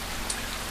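Steady rain falls at the base of the Snæfellsjökull glacier volcano in Iceland, a close, even wash of hiss with no voices.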